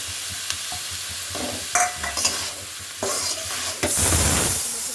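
Tomatoes tossed into a hot pan with a little turmeric sizzle loudly up close, with spatula clatter and stirring scrapes and a sharp burst of hissing near the end.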